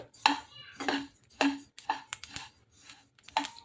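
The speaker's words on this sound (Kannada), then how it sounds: "ಚಟಪಟ ಶಬ್ದ ಆಗ್ತಾ ಇದೆ ನೋಡ್ರಿ" Black sesame seeds dry-roasting in a pan give off scattered sharp pops and ticking crackles, about eight quiet bursts at irregular intervals, with no talk.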